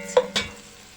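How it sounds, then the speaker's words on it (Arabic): Onion fries in a pan with a low sizzle, broken by two quick spoon taps against the pan. "هنا بقى هقلي البصله"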